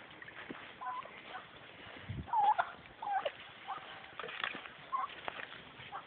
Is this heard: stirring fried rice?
no